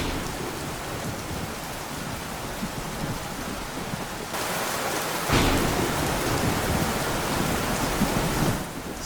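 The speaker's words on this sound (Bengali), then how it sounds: "বাইরে তো খুব বৃষ্টি হচ্ছে" Heavy rain pours in a dense, continuous hiss as a cartoon storm sound effect, with low thunder rumbling in roughly midway and again near the end.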